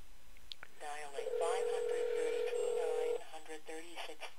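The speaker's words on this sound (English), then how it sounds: "let's dial it anyhow" A run of short beeps on an Android phone, dialing a number, sounds through a steady held tone lasting about two seconds. The sounds are tinny and moderately loud.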